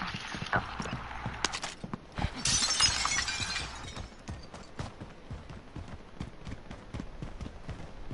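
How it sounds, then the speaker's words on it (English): Glass shatters in a video game, a bright burst of breaking panes followed by scattered clinks and tapping footstep-like clicks, moderately close with no talk. "I just heard glass break."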